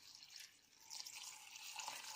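Water is poured into a pot for beet soup, trickling and splashing softly in a close, quiet pour, with a faint bubbling hiss that swells midway.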